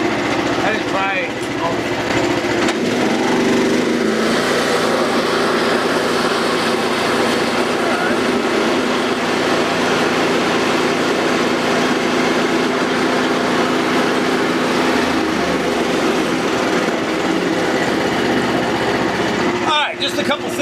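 An OS-27 sawmill cutting a cherry log into boards, a steady loud mechanical whine and drone running throughout, shifting slightly near the end.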